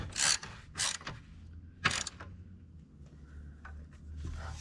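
A wrench clicks and ratchets as a bolt turns during an overhaul of a John Deere 4840 tractor, giving a few short, close metallic bursts separated by quiet pauses.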